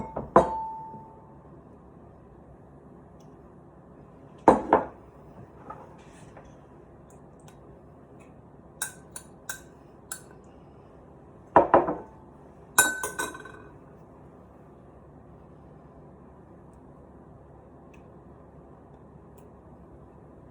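Italian dressing and mayo combined in a bowl: sparse glassy clinks and taps of utensil against the bowl, a few distinct strikes spread across a quiet room with long pauses between.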